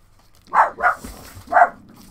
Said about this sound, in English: That's Millie barking